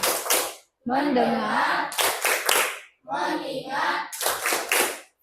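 A teacher leads a classroom focus clap, sharp rhythmic bursts of hand claps alternating with spoken chanted words, claps near and crisp against the voices.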